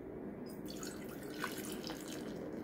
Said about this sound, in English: And let's see how it pours.